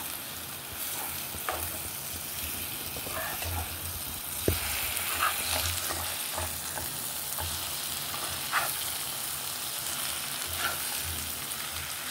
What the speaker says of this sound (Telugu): ఇలా కలిపి కొంచెం రివర్స్ చేసి మళ్ళీ ఒక 2 నిమిషాలు ఉంచుదాం.